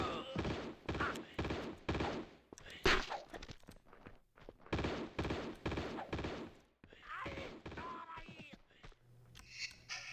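Uzis in the video game Tomb Raider II fire in repeated rapid bursts, separated by short gaps and thuds, with brief quiet talk between the volleys.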